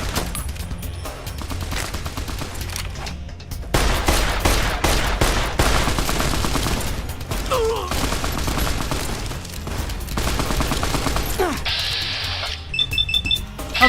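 Gunfire in Fallout: New Vegas comes in repeated bursts of sharp shots, with rapid volleys and short pauses between, dense and loud throughout, ending with a high electronic game chime.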